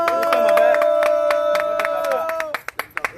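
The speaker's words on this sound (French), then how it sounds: "On applaudit." Audience clapping at a concert, with a sustained sung or held tone over rhythmic claps, then the crowd fading to a few separate sharp claps near the end.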